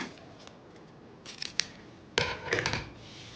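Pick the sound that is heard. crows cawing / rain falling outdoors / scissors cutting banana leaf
scissors cutting banana leaf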